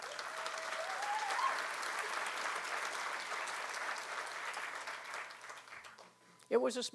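Faint, distant audience applause during a talk forms a soft, even patter for most of the stretch, then thins out before a brief louder bump near the end.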